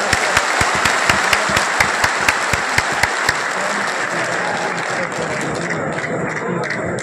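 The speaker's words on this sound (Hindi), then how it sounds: "जोर से ताली बजाइए।" Loud audience applause at a Jan Suraaj political gathering, opening with steady rhythmic unison clapping for a few seconds, then breaking into a continuous, dense wash of clapping from a large crowd.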